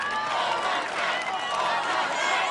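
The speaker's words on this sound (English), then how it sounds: "The crowd chanting" Loud, dense crowd noise from an American Ninja Warrior audience as a competitor climbs toward the Cannonball Drop obstacle, a steady roar of voices and cheering that holds level throughout.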